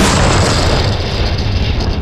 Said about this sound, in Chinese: 俄军士兵快速装填炮弹朝目标发射，搬出 PC-30 多管火箭炮